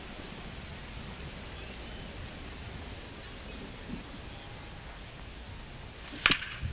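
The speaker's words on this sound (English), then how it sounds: "It feels like we might be headed towards a rain delay if the weather doesn't ease up, Chris." Rain falling in the baseball video game MLB The Show, a steady, soft hiss throughout, with a sharp crack near the end.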